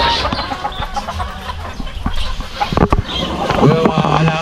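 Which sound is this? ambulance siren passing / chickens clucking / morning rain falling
chickens clucking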